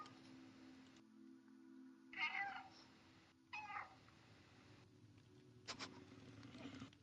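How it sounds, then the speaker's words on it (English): A cat in the video game Stray meows a few times, short bright calls over a steady low in-game hum, with gaps of quiet between them. "It's the meow button, I think"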